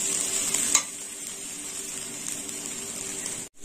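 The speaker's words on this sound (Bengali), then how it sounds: "একটু ভালো করে ভেজে নেব।" Vegetables and rice fry in ghee while being stirred, making a steady close sizzle with a brief scrape of the spoon early on and a short pause near the end.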